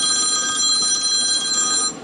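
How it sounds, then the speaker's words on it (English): A telephone rings in a workshop during an Ameritron AL-1500 amplifier repair, a bright steady electronic ring held loud and alone for about two seconds before tapering off at the end. "All sorts of phone calls."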